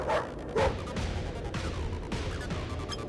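A dog barks and lunges during an attack in the video game Delphos 3, with two sharp bark bursts near the start over a steady, busy layer of game sound effects.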